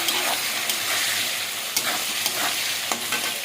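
Chopped ginger, tomato and green chili sizzle steadily in a hot pan, loud and close, with a few stirring scrapes and small spatter bursts breaking through the continuous frying hiss.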